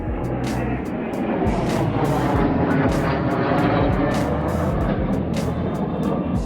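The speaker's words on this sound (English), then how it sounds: "That's a nice quiet jet." A jet aircraft passes overhead above a garden, producing a broad, steady roar that holds for several seconds at moderate distance with no talking over it.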